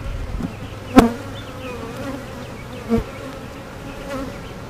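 A dense, continuous drone of many honeybees buzzing around an open hive full of heavy nectar frames, close and steady, broken by two short sharp knocks or clicks, with no talking.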